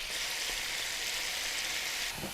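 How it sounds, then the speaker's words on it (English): Thick, steady sizzle of a NY strip steak frying on the grill, loud and close, with a brief soft knock near the end as the meat is turned; no talking. "Flip the steak so I can get the sauce on the other side."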